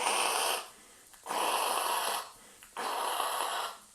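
A voice imitates the noisy, rattling breathing of a person with acute mountain sickness. It makes three long, raspy breaths with short pauses between them, close to the microphone and with no other sound.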